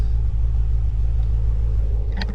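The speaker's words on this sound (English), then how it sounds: "This car is running terribly right now." A BMW F10 M5 twin-turbo V8 with a blown motor idles roughly nearby, a heavy, uneven low rumble that stays steady throughout.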